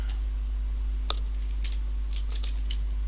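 Typing on a computer keyboard, a handful of light, sparse key clicks, close but quiet over a steady low electrical hum, with no voices.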